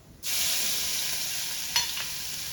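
Crushed spices drop into hot oil already holding fenugreek seeds and a dried red chilli, setting off a sudden loud, steady sizzle that stays strong and close. A brief clatter of stirring cuts in near the end.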